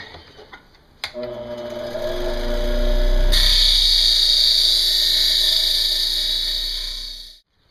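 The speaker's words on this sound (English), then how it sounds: "Bench grinder ought to do the trick." A bench grinder's motor spins up to a steady whining hum against a metal camping pot, then a loud, continuous harsh grinding hiss takes over for several seconds before it cuts off abruptly at the end.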